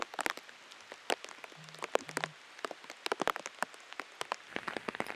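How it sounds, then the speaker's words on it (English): Heavy rain pelts a golf course, with dense crackling drops and scattered sharp splats that stay steady and close throughout, and a brief low hum in the middle. "this rain's really coming down now"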